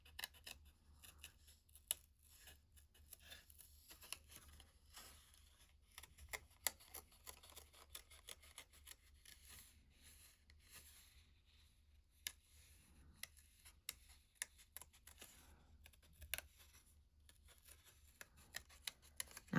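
Pergamano scissors make a faint string of small, crisp snips and clicks as they cut paper, with irregular taps scattered through a quiet room.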